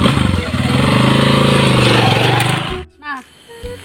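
A motorcycle engine runs loudly up close with a rapid, pulsing throb for nearly three seconds, then cuts off abruptly. Voices are heard talking after the engine goes quiet.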